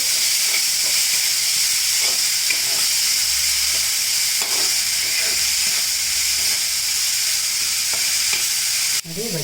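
Onions sizzle and fry steadily in a pan for a noodle dish, a continuous close hiss with occasional stirring scrapes and no talking.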